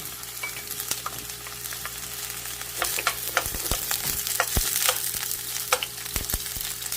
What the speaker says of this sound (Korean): 먼저 당근하고 양파 다음에 피망을 같이 넣어서 볶아줄 거예요.